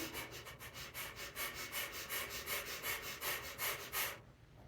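Breath of fire during a yoga plank: rapid, rhythmic forceful exhales through the nose, about three per second, close and steady, then stopping abruptly near the end.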